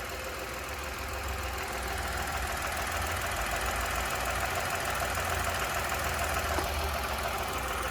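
A Renault Kiger's 1000 cc petrol engine idles with a steady, even mechanical hum and faint rattle that holds at a constant level throughout. No one speaks.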